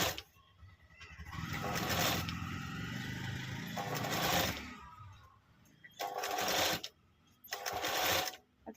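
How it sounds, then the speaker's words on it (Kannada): Sewing machine stitching a frill onto fabric while tailoring a dori design, running in several close, loud bursts of rapid whirring with short pauses between runs. "ಈ ರೀತಿ ನೀಟಾಗಿ ಸ್ಟಿಚ್ ಮಾಡ್ಕೊಳ್ಳೋಣ."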